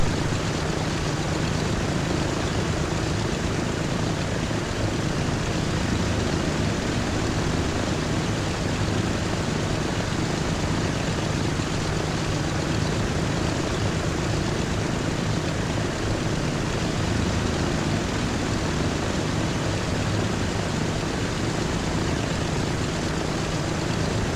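Steady, continuous drone of an aircraft in flight within the transport simulation game Transport Fever 2, a constant broadband engine hum holding level throughout with no speech over it.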